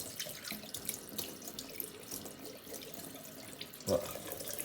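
Running tap water splashes steadily as a fresh herring is rinsed and scraped clean in a kitchen sink, a soft, continuous flow with a brief louder splash near the end.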